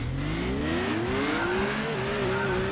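A race car engine in Gran Turismo 2 revs loudly on a superspeedway, its pitch climbing steadily through a gear and roaring continuously for under three seconds.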